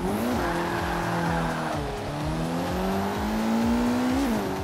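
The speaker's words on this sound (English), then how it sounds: "So let's take her for a spin and let's see how she drives." A car in Forza 5 is driven hard, its engine droning and rising through repeated revs with tire noise, loud and continuous throughout.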